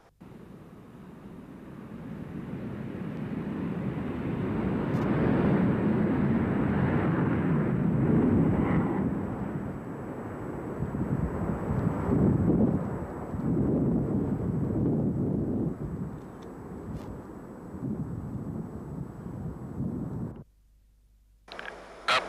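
An F-15 Eagle fighter jet takes off from a runway with a broad, rushing roar that swells, holds loud for about twenty seconds, then cuts away abruptly.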